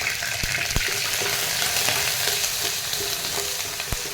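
Curry leaves and coriander stirred into tomato dal with onion paste in a hot pan, giving a steady close sizzle and frying hiss with a few sharp spoon clinks against the pan.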